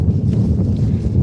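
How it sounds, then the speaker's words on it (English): Gusty outdoor wind buffets the microphone with a steady low rumble for the whole moment, loud and continuous, with no voices over it. "Not the rain, the wind, because it is windy."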